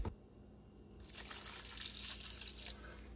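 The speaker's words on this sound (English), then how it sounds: "Now I'm going to add the water." Water is poured into a bowl of mashed banana for muffin batter, a soft steady splashing stream that starts after a brief pause and continues close and fairly quiet.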